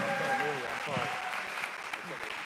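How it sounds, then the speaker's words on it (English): Audience applause at a live award ceremony for a classic Corvette and Cadillac CTS-V giveaway, with clapping heard faintly under a voice talking over it. "Let's give him a big round of applause."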